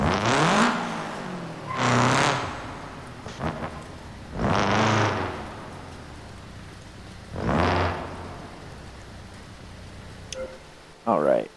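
In the BeamNG.drive rally car career mode, rain falls steadily while heavy thunder-like rumbles surge in at intervals, four or five loud swells separated by quieter stretches of rain.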